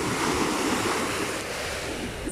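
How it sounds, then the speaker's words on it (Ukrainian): Steady wash of sea waves breaking on a Greek shore, a continuous broad roar with some wind noise, no voices. "звук хвиль"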